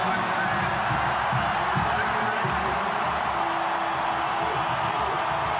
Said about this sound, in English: They've got the loud crowd.